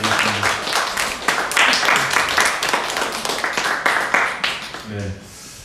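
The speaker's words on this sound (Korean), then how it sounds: "우리 또 수고했다고 한번 박수로 인정하겠습니다" A church congregation claps together during a Sunday worship service, a busy patter of many hands that fades toward the end, with a voice speaking over the clapping.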